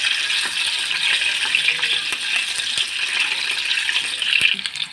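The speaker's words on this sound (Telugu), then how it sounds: "గుడ్లు వేసుకొని వేయించుకోవాలి. గుడ్లు బాగా వేయించుకోవాలి." Eggs sizzling and crackling in a hot pan for a Telugu nethallu (dried anchovy) curry, a steady close frying hiss with scattered pops and light clinks, no voices.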